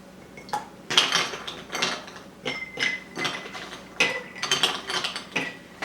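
Ice cubes tumble into an orange margarita, making a string of bright glassy clinks and rattles in quick irregular bursts, close and fairly quiet.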